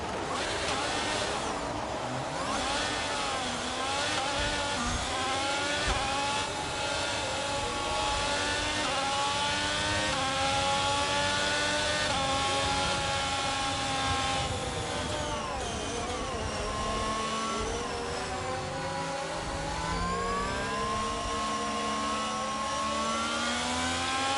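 A race car in a sim racing video game lapping a circuit, engine note rising and falling through gear changes and corners, continuous and fairly close.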